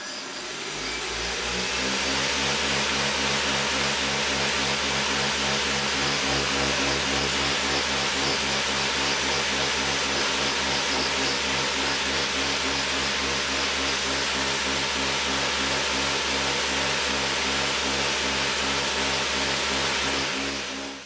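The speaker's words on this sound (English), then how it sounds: "I then initially attached the motors directly to the aluminium frame, as I wanted to test whether impellers would be enough to lift this craft." Electric motors fixed directly to an aluminium hovercraft frame spin 3D printed impellers, a loud steady whine that climbs in pitch over the first couple of seconds and then holds constant, with no talking.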